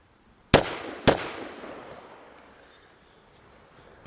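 Two sharp, loud AR-15 rifle shots about half a second apart, each cracking sharply and then ringing out in a long decaying echo across an outdoor shooting range, with no talking.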